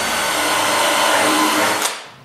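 A power drill bores holes in the wooden top rails of a furniture frame, a loud steady whirring drone close by that runs for about two seconds before the motor releases and spins down.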